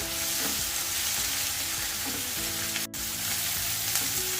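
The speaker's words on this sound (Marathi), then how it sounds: "छान परतून घेते मस्त खमंग स्वास येतो ठेचा घातल्यामुळे" Onion sautéing with thecha in a pan, producing a loud, continuous close sizzle with soft stirring scrapes throughout and one brief dip in the middle.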